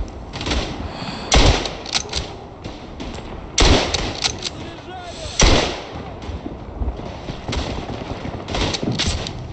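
Rifle shots in the World War I shooter Tannenberg, played as a squad of Latvian riflemen, with a few loud, sharp reports spaced several seconds apart over a constant battlefield din and background voices.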